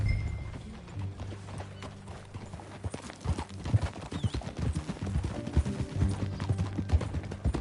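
Hooves clip-clop steadily at a walking pace, fairly close, over a low rumbling ambient bed with occasional clanks, in a video game.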